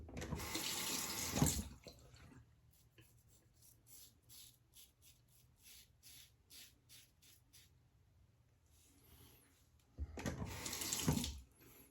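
Water runs loudly from a tap while a Schick injector adjustable razor is rinsed, in two bursts at the start and end, with quieter scraping and tapping sounds between them.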